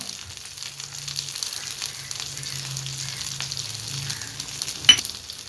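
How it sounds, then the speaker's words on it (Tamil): Fish frying in oil with curry leaves on low to medium flame, a steady close hiss and crackle of sizzling oil that stays even, with one sharp tap near the end. "இப்போ மீனை போட்டாச்சு இது கூட கொஞ்சம் கருவேப்பிலை போட்டுக்கலாம்"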